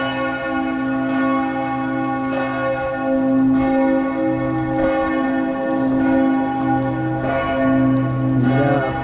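Church bells ring continuously in an Austrian city, a loud, full peal of overlapping tones that swells and sustains throughout without pause.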